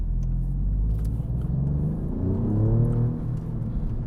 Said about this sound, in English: but we're gonna go into race mode.